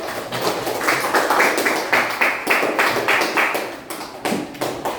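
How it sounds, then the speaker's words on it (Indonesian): A classroom audience claps for the first presenting group after their discussion, a steady patter of many hands lasting several seconds with no talking over it. "Berikan tepuk tangan untuk kelompok 1."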